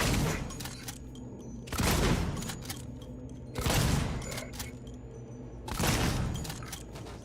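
Bursts of gunfire from the sci-fi survival horror game Alien: Isolation, three loud volleys about two seconds apart, each rising sharply and trailing off into a rumbling background.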